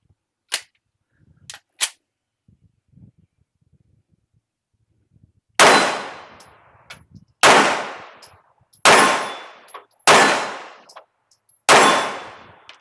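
Five sharp gunshots from a polymer-framed rifle, fired at a steady pace about a second and a half apart, each loud crack decaying quickly, preceded by faint clicks and handling noise.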